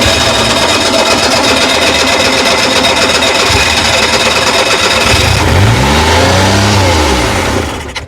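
An abandoned police car's engine cranks and catches after fuel is poured in, then revs up loudly with rising and falling tones before cutting out near the end. No one speaks.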